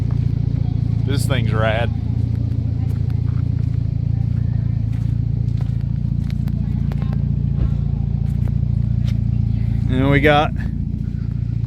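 Propane-powered old Yoder off-road rig rumbling steadily close by with a low, continuous engine drone, while people talk over it.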